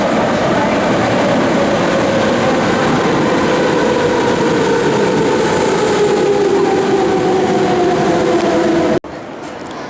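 A loud subway train roars and rumbles through a tunnel in Athens, Greece, wheels grinding with a falling whine, before abruptly cutting to a quieter hum near the end.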